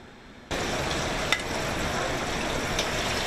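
Crab meat frying in a pan of hot oil, a steady loud sizzle that starts abruptly and continues with a couple of small pops.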